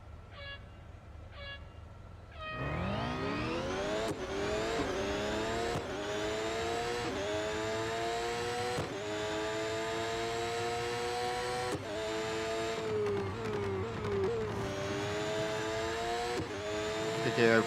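Ferrari 375 F1 in the Real Racing 3 racing game, its engine revving loudly from about two seconds on with repeated rising gear-change sweeps, steady and up close, after a quieter idle start.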